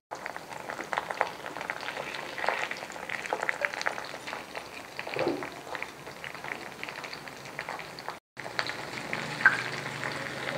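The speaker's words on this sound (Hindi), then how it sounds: "भिंडियों को हम फ्राई कर लेते हैं और ये वही मैंने ऑयल लिया है जिसमें मैंने अभी प्याज फ्राई किया था।" Okra (bhindi) fries in oil already used for frying onions, giving a steady, soft sizzling and bubbling with occasional stirring, close by, with a brief dropout near the end.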